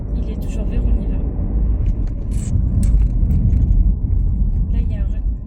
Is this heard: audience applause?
no